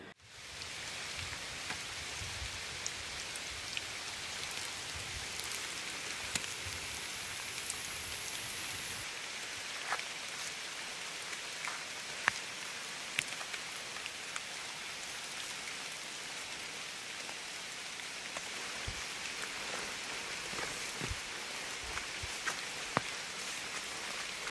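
Heavy rain pours steadily during a downpour that collapsed a well at Vaniyampara, a dense continuous hiss of drops on surfaces with occasional louder splashes, and no voices throughout.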